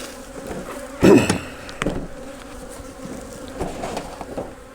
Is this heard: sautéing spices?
no